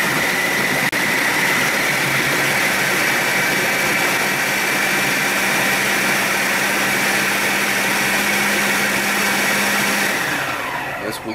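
A food processor spins steadily to mix a crumble, a loud continuous whirring motor drone that holds for about ten seconds before winding down.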